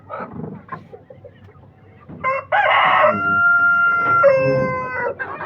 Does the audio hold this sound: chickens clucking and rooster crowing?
yes